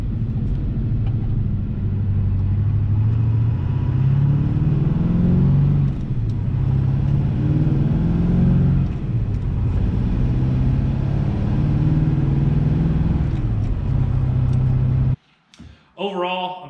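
Chevy Duramax pickup with a ZF6 manual gearbox and South Bend organic dual-disc clutch rolling along, a steady loud engine rumble holding throughout, a voice talking over it, cutting off abruptly near the end.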